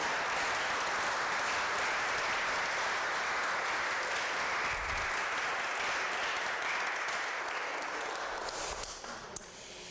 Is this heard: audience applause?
yes